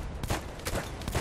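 Revolver gunfire in the World War I shooter Battlefield 1, several loud sharp shots in quick succession over a dense, noisy battle background.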